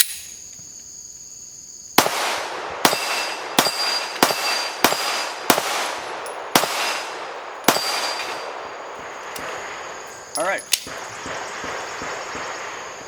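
Pistol shots with factory ammunition ringing off a steel plate rack: about nine sharp cracks in an uneven string, each followed by a metallic ring, loud and close.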